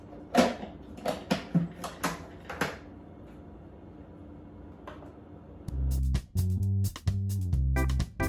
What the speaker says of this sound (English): we're going to blend that up first before we add everything else